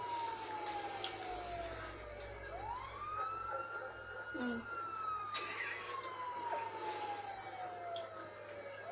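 In GTA 5 on Xbox 360, an ambulance siren wails in long rising and falling sweeps, moderately loud and steady over low background rumble, with no speech.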